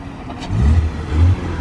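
A car pulls up and revs in two short bursts over a low engine hum, fairly close.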